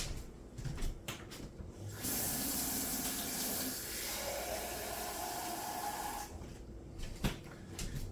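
Warm water runs steadily from a tap for several seconds, a broad rushing hiss that starts abruptly, then cuts off, followed by a few soft knocks.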